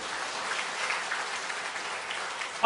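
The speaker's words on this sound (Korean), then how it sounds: "박수 한번 쳐주세요." A congregation in a church claps together in a dense, even wash of applause that holds steady for a few seconds, with no voices over it.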